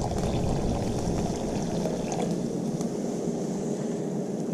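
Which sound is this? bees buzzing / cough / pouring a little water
pouring a little water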